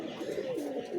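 Dobaj pigeons coo in a soft, continuous murmur at a home loft, the low throaty notes close by and steady through the whole moment with no talking.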